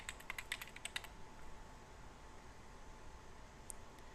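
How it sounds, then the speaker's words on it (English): Fingers tap quickly on a computer keyboard for about a second, a quiet, close burst of clicks, then faint room hiss with one last keystroke. "So I will simply type in Formation."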